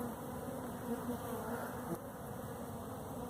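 A honey bee swarm hums steadily inside a hive swarm trap, a dense, continuous close-up buzz with no talking over it.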